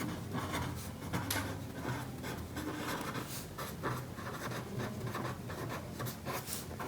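A pen or chalk scratches out writing on a surface in steady, quiet strokes, continuous and close with no talking.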